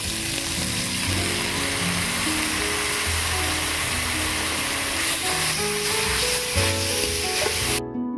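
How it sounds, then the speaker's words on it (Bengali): Spices sizzle in a pan as salt, turmeric, chili powder and a little water go in, giving a loud, continuous fry with a dense hiss and a faint rhythmic mechanical whir underneath, ending abruptly. "এবারে দিয়ে দিচ্ছি স্বাদ মতো নুন, হলুদ গুঁড়ো, লঙ্কা গুঁড়ো, অল্প একটু জল দিয়ে দিচ্ছি"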